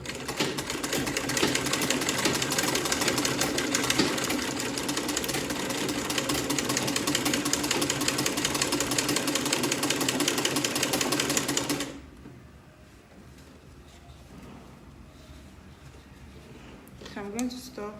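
Sewing machine stitching corset boning on a corset dress, a loud steady run for about twelve seconds that stops abruptly, leaving quiet room sound and a few soft handling noises.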